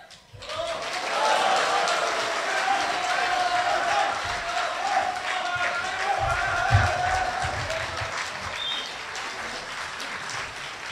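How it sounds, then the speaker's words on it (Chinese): Audience applause at a live Chinese crosstalk (xiangsheng) performance, dense steady clapping from a large crowd that rises quickly and holds for several seconds, with a few scattered cheers. "谢谢朋友们的掌声。"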